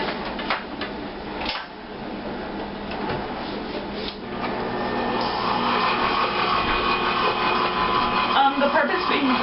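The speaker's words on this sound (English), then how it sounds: "cream together 3/4 cup of margarine set at room temperature here in the blender, along with 1/2 cup of brown sugar" A blender creaming room-temperature margarine with brown sugar, a loud steady whirring motor under a person talking, with a few clunks early and the drone growing fuller toward the end.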